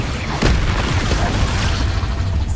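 Explosive Confringo spell blast in Hogwarts Legacy, a loud burst with a rumbling low-end boom that decays over a couple of seconds amid dense game noise.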